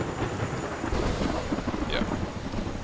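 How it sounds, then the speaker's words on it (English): A lightning strike's thunder in ArmA 3's Zeus mode rumbles loud and close, a heavy roll with a crackling, rain-like hiss laid over it, lasting a few seconds. "You can kill people with lightning"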